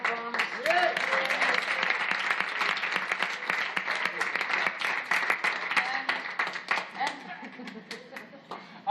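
An audience at a concert claps in warm, dense applause that keeps up steadily from start to finish, with a little laughter and voices mixed in.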